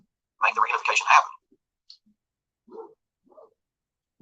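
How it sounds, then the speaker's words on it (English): Several dogs bark indoors, a burst of loud barking followed by a few fainter, scattered barks. "I wish these dogs would shut up."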